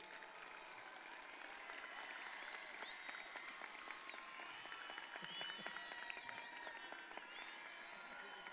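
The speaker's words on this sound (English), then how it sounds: "Give them a round of applause for everything they've done for you." Graduation audience at a high school ceremony gives sustained, dense applause for parents, a continuous wash of clapping from a large crowd with some faint whoops, heard at a distance.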